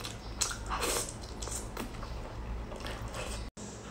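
Braised beef tendon, stewed very soft, being chewed close up, with wet squishy bites and soft crunchy smacks in an irregular rhythm, loud and near, with no talking.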